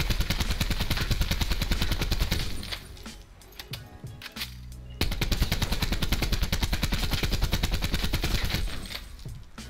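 An ICR rifle is hip-fired in a video game in fast, loud automatic bursts of sharp cracks, with a brief pause midway before the rapid firing resumes.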